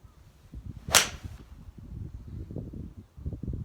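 A single sharp whooshing strike near the start, a Benross Type R Compressor fairway wood swishing through and hitting a golf ball, followed by low rustling and faint background noise.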